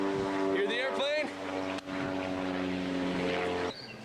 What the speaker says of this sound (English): Hear the airplane?